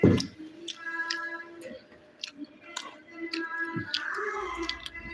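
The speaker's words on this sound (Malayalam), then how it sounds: "അതിന് ചിക്കൻ ഫ്രൈ തിന്നാം" Close, wet chewing and crunching of fried chicken during a home-style rice meal, in irregular bites over faint background tones.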